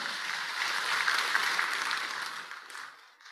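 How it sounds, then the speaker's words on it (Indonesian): Audience applause at a party leadership inauguration ceremony in Indonesia: a dense, steady wash of many hands clapping at moderate distance, holding evenly for nearly three seconds before thinning and fading out. "Tepuk tangan boleh?"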